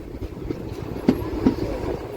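The Tungabhadra Express stands at a crowded railway station, a low rumble with a couple of dull metallic clunks, loud and near.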